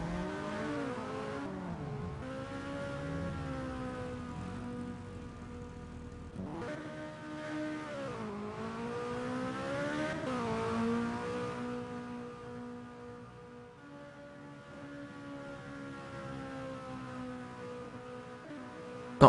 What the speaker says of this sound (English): Quite a few cars out on track at the moment.